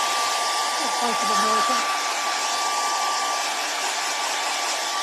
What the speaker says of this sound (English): I think I'll grab the blow dryer and just do this really quick.